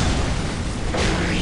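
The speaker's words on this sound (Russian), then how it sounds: "гранату кидаешь!" A grenade blast in the Warhammer 40K game Dawn of War Soulstorm, a loud, dense, rumbling boom that fills the whole short moment at close range.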